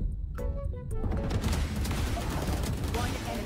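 Video game gunfire in a ranked match: a few distinct shots at the start, then dense rapid fire and bursts that go on throughout at moderate level, with voices over them.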